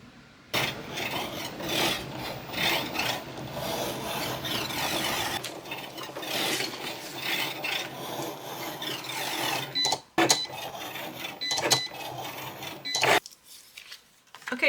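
A Cricut cutting machine slices card pieces for a handmade card, giving a steady mechanical whirring and scraping with several short pauses and a few clicks toward the end, close and fairly loud, with no talking.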